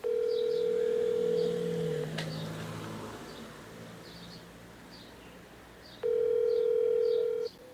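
A telephone ringback tone sounds while calling a number, a loud steady beep lasting about two seconds, then a quieter stretch with faint background noise, then the tone again for about a second and a half, with no voices.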